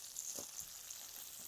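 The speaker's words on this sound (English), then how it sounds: "Okay, so our bacon is sizzling away." Bacon frying in a pan gives a steady soft sizzle with faint crackles, quiet and continuous over a short stretch with no voices.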